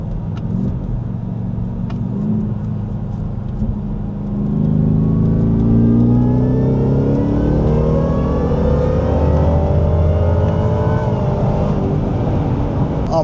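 Ford Raptor R pickup fitted with a Whipple supercharger, its engine revving hard and loud, building from a steady idle into rising, sweeping pitch with a strong deep rumble and supercharger whine, no talk over it.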